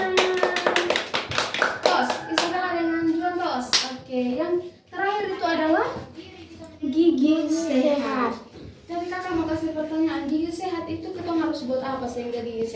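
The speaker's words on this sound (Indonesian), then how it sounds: "Tepuk tangan." Children clap their hands in a quick burst of sharp claps during a dental-health snakes-and-ladders game, followed by children's chatter and talking.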